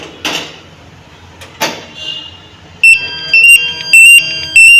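A handheld gas detector alarm set off near a gas stove beeps loudly in repeated shrill electronic bursts after a couple of softer clicks and knocks, with no talk over it.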